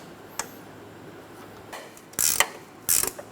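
A hand ratchet clicks in short bursts while snugging strut mount bolts on a 2007-2012 Nissan Altima, a few sharp metallic ratcheting strokes near and clear, with quiet gaps between them.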